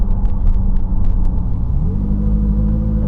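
A McLaren 570S accelerates hard from inside the car with a deep, loud engine rumble, and its pitch climbs then settles after a quick gearshift, with faint clicks over the roar.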